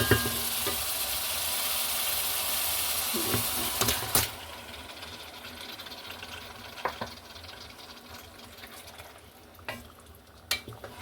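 Meat goes into a pan of well-fried spice paste, giving a loud steady sizzle for about four seconds. It then settles into a quieter fry broken by occasional scrapes and clinks of the spoon against the pan, close up, with no talk.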